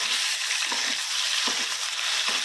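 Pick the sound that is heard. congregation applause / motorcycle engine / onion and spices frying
onion and spices frying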